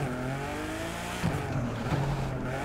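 Car engine in a racing video game, upgraded to 700 horsepower, drones steadily with layered harmonic tones, then shifts pitch sharply around mid-clip as it revs and gears change, loud and continuous throughout.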